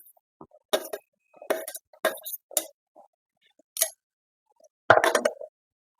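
Cucumber pieces drop one after another into a clay pot, making a series of sharp clinks and soft plops spaced irregularly, with a final cluster louder than the rest, close and alone.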